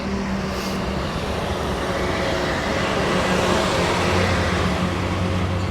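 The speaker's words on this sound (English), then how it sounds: "lots of traffic." Steady, loud road traffic rumbles continuously with a low drone of passing cars and heavier vehicles, close by and uninterrupted, with no voices over it.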